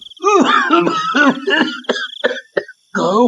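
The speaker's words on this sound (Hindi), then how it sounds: "वहां खांसी करता हुआ आता है।" An old man coughs and groans hoarsely in a close series of rough, throaty hacks, with a brief pause before a final strained cough.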